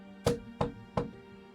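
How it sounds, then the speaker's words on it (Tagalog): Three sharp knocks on a door at night, evenly spaced about a third of a second apart, close and distinct over a faint quiet background. "Nagising si Gabriel sa 3 katok sa pintuan."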